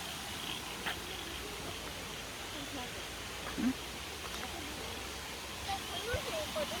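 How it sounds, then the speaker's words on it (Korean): A small waterfall on a woodland walking trail sends out a steady, soft rush of falling water that stays even throughout, with faint voices and a few brief sounds nearby. "작은 폭포."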